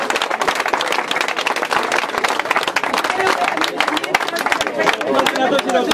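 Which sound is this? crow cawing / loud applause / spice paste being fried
loud applause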